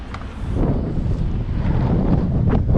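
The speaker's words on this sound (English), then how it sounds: "It's very windy." Strong wind buffets the microphone in a continuous roaring rush, with occasional sharper gusts and no talking.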